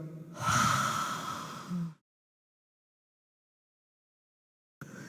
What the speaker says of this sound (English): Breathe in through the nostrils and then breathe out